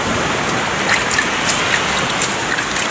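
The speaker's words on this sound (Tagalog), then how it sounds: "Grabe dagko ng balod" Big sea waves rushing and churning close by, a dense, continuous wash of water noise with no pauses, loud throughout.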